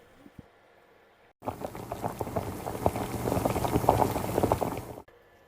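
Orzo simmering in chicken stock in a pan with roast butternut squash, a dense bubbling and popping that starts abruptly, builds steadily for several seconds, then stops suddenly.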